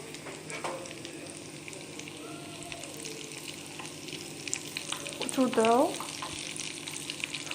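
Potato maakouda, Algerian fritters, sizzle and crackle steadily in hot oil, up close, with a brief word spoken and a louder bubbling surge midway.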